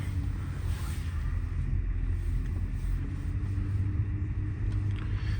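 A Porsche Panamera 3.0 diesel on the move, heard as a steady, deep engine and road rumble that holds at an even level throughout with no break.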